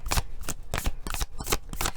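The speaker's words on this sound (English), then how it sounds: "we got to shuffle y'all another one" A deck of cards is riffled and shuffled repeatedly at close range, giving a steady series of crisp, papery bursts in quick rhythm during a tarot-style spiritual reading.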